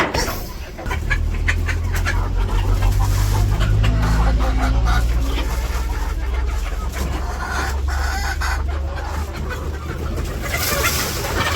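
Village chickens cluck busily in a yard, with a rooster crowing among them, loud and close with continuous overlapping calls and little talk.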